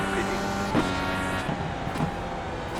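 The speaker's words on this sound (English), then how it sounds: "sounds like everybody's starting to pit" IndyCar race cars in the iRacing simulator at Richmond enter pit lane, their engines a steady layered drone with several overlapping pitches that rise and fall as cars pass nearby.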